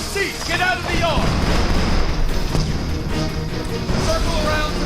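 Rapid bursts of heavy APC cannon fire in the video game Homefront boom under a dense wash of battle noise, with voices shouting over the din.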